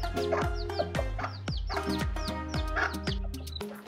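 A mother hen clucks repeatedly in close, loud bursts, with other chickens' calls layered around her and a steady hum beneath.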